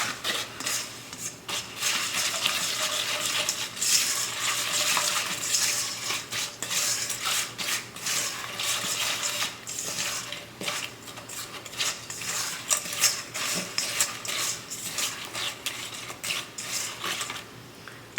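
Pecan pie filling of egg and butter being mixed in a bowl, a continuous busy scraping and clinking of a utensil against the dish, close and fairly loud, with uneven strokes and no talking.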